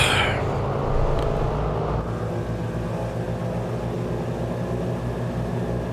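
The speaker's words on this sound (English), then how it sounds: "Run the engines up." Aircraft engines run up before takeoff in a flight simulator game, a loud steady propeller drone with a throbbing low pulse and whining harmonics that holds constant after a brief higher hiss at the start.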